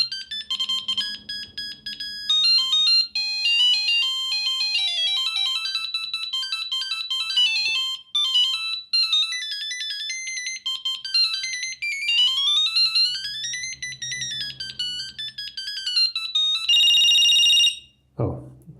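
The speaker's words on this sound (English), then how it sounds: "the ringtones at that time were quite loud" A 1999 Ericsson T10s budget GSM phone plays loud monophonic ringtone melodies. Bright, beeping tunes step through several patterns, and a sustained tone near the end is cut off abruptly.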